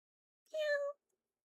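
A single short cat meow, close and clear, rises and falls in about half a second, with silence before and after.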